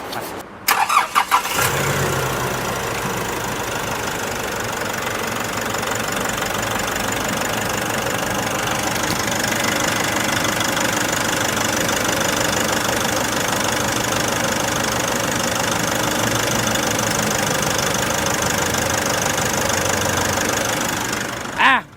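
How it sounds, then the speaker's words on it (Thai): A 2016 Nissan Navara NP300 2.5 pickup truck engine with 60,000 km cranks and fires after a short burst, then settles into a steady, loud diesel-like idle that runs on evenly. "เดี๋ยวไปฟังเสียงเครื่องดีกว่า"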